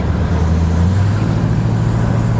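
A 1967 Plymouth Satellite with a 318 engine and new exhaust idles with a deep, steady exhaust rumble, continuous and close, with a low droning tone throughout.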